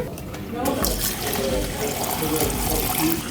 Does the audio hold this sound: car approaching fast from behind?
no